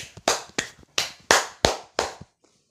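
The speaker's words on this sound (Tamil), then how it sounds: "வழக்கம் போல கைத்தட்டல் ஒலியால் காடே அதிர்ந்தது." Sound effect of hands clapping in a children's story, six or seven sharp, separate claps in an uneven rhythm, close and clear, then silence.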